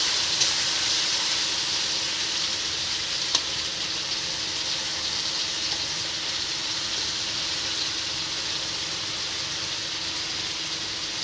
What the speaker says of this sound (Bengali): রসুনটা আমার হালকা ভাজা হয়ে গেছে